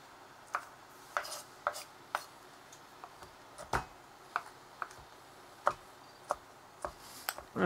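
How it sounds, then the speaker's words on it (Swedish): A knife chops black trumpet mushrooms on a board in a steady series of crisp, close taps with brief pauses, no talk. "Hacka upp dem lite grann så här."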